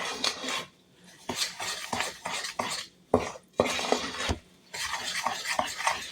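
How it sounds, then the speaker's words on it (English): Chocolate marshmallow egg ingredients being stirred in a pot, with a utensil scraping and clinking against the sides in uneven strokes and short pauses, close and clear with no talking. "Mix this all up, and then we're going to put this over medium heat."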